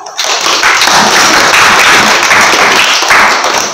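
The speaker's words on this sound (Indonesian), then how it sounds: "Tepuk tangan untuk Nurul." A classroom full of children bursts into loud, sustained clapping, a dense close wash of hand claps that continues without pause.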